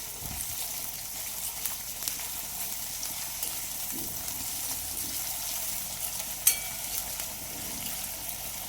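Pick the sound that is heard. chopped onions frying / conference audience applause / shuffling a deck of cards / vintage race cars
chopped onions frying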